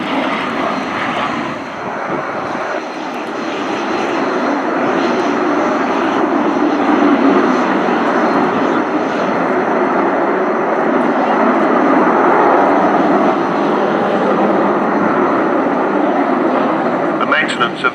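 Avro Vulcan B.2 XH558 jet bomber flying at the Fairford air show, a loud, steady broadband jet roar holding for the full length without break, with a voice speaking over the engine noise.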